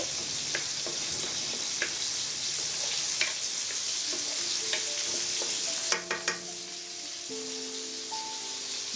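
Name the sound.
spices with red chilli powder being sautéed in a pan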